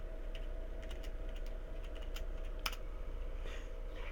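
Someone types on a computer keyboard at a Linux machine, a quiet run of light, irregular key clicks over faint background hum, with one sharper tap near the end.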